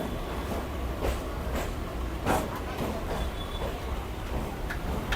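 A local train pulls away from a platform at Dum Dum station in Kolkata, a steady low rumble with rhythmic wheel clatter and faint squeals, fairly close and continuous with no talk.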